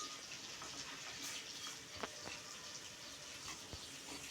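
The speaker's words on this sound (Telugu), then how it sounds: "చూడండి, మళ్ళీ ఒకసారి ఫ్రై చేస్తున్నా." Pieces of fish frying in hot oil in a pan, giving a steady close hiss with a few sharp pops and crackles and no talking.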